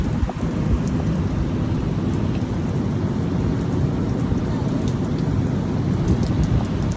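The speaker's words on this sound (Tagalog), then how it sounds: "ulan at dagat lumakas din" Heavy rain pouring beside the sea, a dense, loud, unbroken roar of drops hitting surfaces over low surf rumble, steady throughout with no speech.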